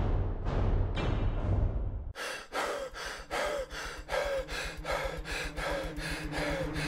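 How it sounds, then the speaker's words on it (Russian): An animated cartoon character pants heavily after a short run, a steady series of rhythmic loud breaths filling the foreground, preceded by a few dense puffs of noise. "Почему ты так дышишь?"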